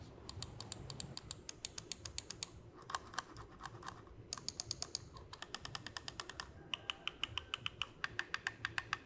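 A Digital Alliance DA Air P3065 mouse with tactile Huano switches clicks rapidly and steadily at close range, dozens of crisp light clicks in irregular bursts over a quiet room background.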